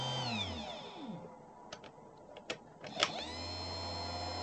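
A $19 reversible VW wiper motor whirs steadily, spinning down and then starting back up in the other direction, with a few clicks of a cheap switch in between.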